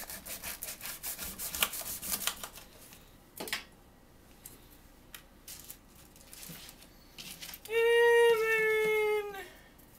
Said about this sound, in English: 3 to 5 lemongrass stalks trimmed. So much like with the celery, just take off the tops.